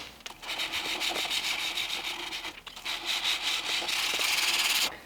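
Sandpaper rubbed by hand across a steel knife blade, 220 grit, in steady back-and-forth strokes, close and fairly loud, with a brief pause midway and no voices.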